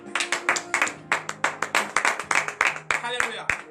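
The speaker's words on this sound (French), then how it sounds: "Donnez des acclamations à Dieu." A church congregation at morning prayer claps in praise, a sharp rhythmic run of hand claps at a steady beat while voices sing or call out over them.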